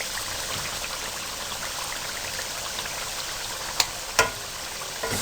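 Mutton trotters fry in a pan with gravy, giving a steady, close sizzle with bubbly crackle throughout and a couple of sharp clicks near the end, no voices.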